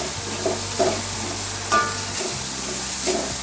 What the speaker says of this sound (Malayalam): നമ്മൾ നേരത്തെ ആ ചെമ്മീൻ വറുത്തപ്പോൾ എടുത്ത ആ ഒരു വെളിച്ചെണ്ണ അതിൽ തന്നെയാണ് ഈ സവാള ഇട്ടേക്കണത്